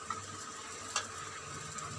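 Poppy seeds fry in a pan with a faint, steady sizzle and crackle, plus a couple of soft stirring scrapes, with no voices.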